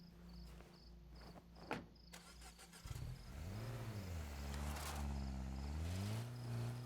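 A car starts up in the zombie survival game State of Decay 2 and then idles and revs with a rising and falling engine drone. Insect-like chirping runs through the background.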